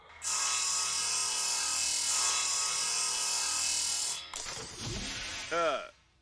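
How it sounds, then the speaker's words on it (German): A saw drill cuts through a door in the sci-fi survival game Breathedge, giving a loud, steady, continuous grinding whine for about four seconds. A clattering mechanical rattle and a short rising whir follow before it stops. "Sägebohrer brauchen wir jetzt dafür."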